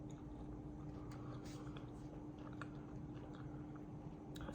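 Someone close to the mic chews food with soft wet squishy bites and mouth noises over a steady low hum, quiet and continuous.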